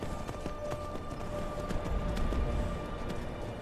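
Horse hooves clip-clopping across icy ground in Skyrim, a steady, moderately loud trotting rhythm of crisp repeated strikes over a faint ambient bed, with no talking.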